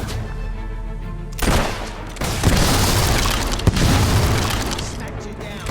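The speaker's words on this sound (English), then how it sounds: "I'll try and get you with a ricochet shot next time." Gunfire in the fantasy game Fable 3, with a heavy booming shot followed by a dense, loud rumble of blasts and battle noise, and a voice speaking over it.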